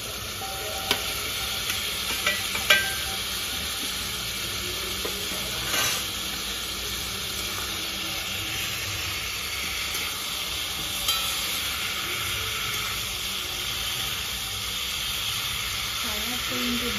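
Fried potato and pointed gourd sizzle in a pan, a loud, steady hiss throughout with occasional faint clinks of stirring.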